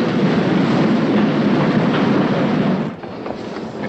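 Express train to London pulling out of a station platform, a loud, steady rumble of rail noise that fills the clip and eases slightly near the end.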